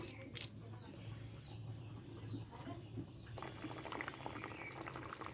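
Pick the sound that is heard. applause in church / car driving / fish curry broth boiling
fish curry broth boiling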